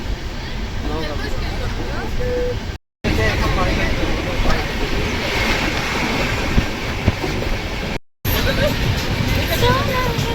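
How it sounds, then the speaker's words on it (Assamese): A passenger train in Assam rumbles steadily along with rattling carriage noise and faint clatter, while people talk and murmur in the background. "এইখন আমাৰ হ'ল ট্ৰেইন"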